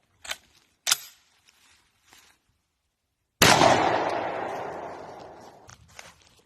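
A 1909 Browning Auto-5 16 gauge shotgun fires one 2 3/4 inch Remington 7.5 shot shell at a target 15 yards away. A few faint clicks come first, then a single loud, sharp blast rings out with a long fading tail.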